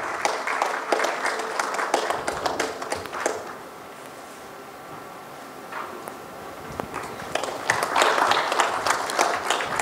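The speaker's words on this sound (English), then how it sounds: "Can we have a round of applause again?" An audience at a panel discussion session on digital governance gives a round of applause, with dense clapping that thins briefly in the middle before swelling again to a full, steady ovation.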